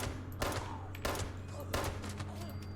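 Three distinct gunshot bursts in the Fallout 76 video game, evenly spaced and fairly close, over a low humming background, quiet overall.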